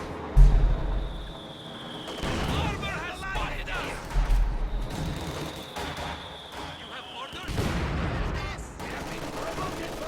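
Automatic weapons fire in Company of Heroes, bursts of rapid shots alongside scattered booms in a World War II real-time strategy battle, with a commentator talking throughout.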